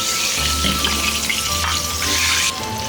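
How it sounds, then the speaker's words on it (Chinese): Chinese cured pork belly (la rou) stir-fried in hot oil in a wok, giving a loud, continuous sizzling crackle with a few scraping stirs and no talk. "把腊肉用油给它煸烧一下"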